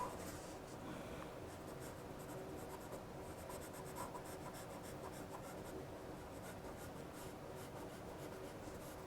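A pencil scratches and rubs across paper while sketching a portrait, soft continuous strokes with quicker rhythmic hatching in places, faint and close.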